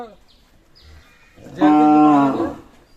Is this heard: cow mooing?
yes